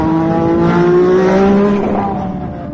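Ayrton Senna's Formula One race car accelerates hard on a lap, its engine note climbing steadily in a loud, close, continuous roar that dips slightly near the end.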